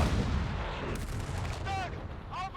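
Artillery fire from a Cannone gun in the video game Company of Heroes 3, a dense rumbling barrage of booms filling the clip with continuous low-end energy, plus brief whistling tones near the end.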